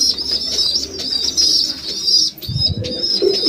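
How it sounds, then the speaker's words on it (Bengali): Madrasi pigeons coo close by in soft, repeated throaty calls, with a steady high whistling tone behind them and a short rustle of movement near the end. "আর এই আমাদের ফুল সিরা লাইনের পায়রা"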